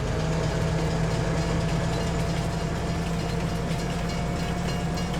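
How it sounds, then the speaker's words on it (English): A train in a farming video game rumbles along steadily with a constant loud mechanical drone and low engine hum, continuous throughout with no talking. "The train will head on to Elm Creek"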